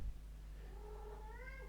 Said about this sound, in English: my cat wants to come into the office